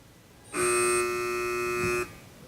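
A single loud electronic quiz buzzer at a high school quiz match lasts about a second and a half, steady and harsh, then cuts off into quiet.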